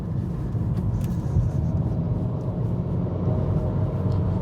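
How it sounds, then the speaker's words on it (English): An Acura Integra with a CVT pulls hard through canyon corners on a Pacific Coast road, a steady close engine and road rumble with no voices. "But this thing accelerates quick around the corners"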